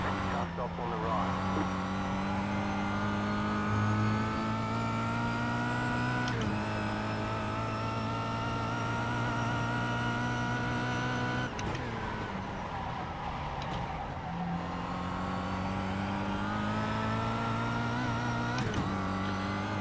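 Race car engines in the iRacing sim during a multi-class race, droning and revving with steady tones that shift pitch as gears change, continuous and moderately loud under a speaking voice.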